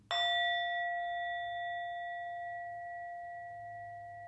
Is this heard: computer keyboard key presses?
no